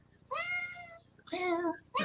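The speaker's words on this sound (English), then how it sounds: "She got a cat" A house cat meows twice up close, each call drawn out and tonal, with the start of a third meow at the end and no speech.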